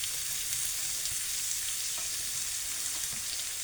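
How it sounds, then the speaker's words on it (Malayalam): Onions frying in a pan give a steady, close sizzle that keeps going evenly throughout, with no voices heard. "ഇപ്പം നമ്മൾ ഉള്ളി ഇതിനകത്തോട്ട് വെക്കും."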